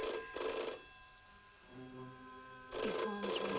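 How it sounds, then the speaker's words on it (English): A telephone rings in two loud bursts with a quiet gap between them, while a low sustained musical tone carries under the pause. "Your phone's ringing."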